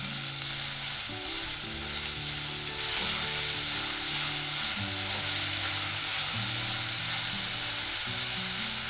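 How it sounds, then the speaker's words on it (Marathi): Chopped onion frying in a pan for spicy Kolhapuri chicken curry, a loud steady sizzle with stirring scrapes throughout, close and continuous with no talking. "हा कांदा आपल्याला 2-3 मिनिटं तरी फ्राय करून घेतला पाहिजे."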